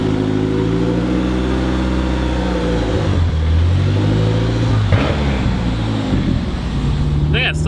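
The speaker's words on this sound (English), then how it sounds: "we're gonna take it for a drive, let it get up to operating temp, go through the revs" A car with a Mitsubishi 4G63 engine runs steadily and loud while driving, its engine note climbing and falling through the revs with a clear harmonic drone throughout.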